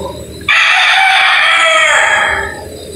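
Gamecock rooster at a game farm in Batangas giving one loud, close crow that rises sharply and holds for about two seconds before trailing off.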